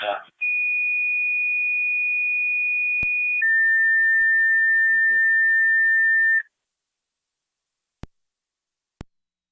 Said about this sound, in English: your second set of tones for your EMS call